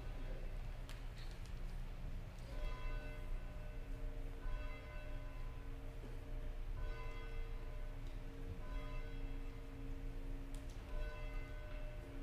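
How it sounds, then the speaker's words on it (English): A faint church bell tolls slowly before a Sunday service, its ringing tones lingering and overlapping in a quiet, distant space with no talking. "to the tolling of our church bell."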